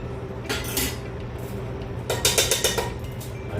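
Canned chili beans being added to a pot of chilli, bringing clinks and scrapes of metal utensils against the can and pot, with a flurry of rattling knocks toward the end.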